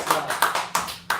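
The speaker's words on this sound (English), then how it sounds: "This little clap." A few small hand claps, about five sharp, evenly spaced slaps close to the microphone, quick and light, with a voice faintly present in the background.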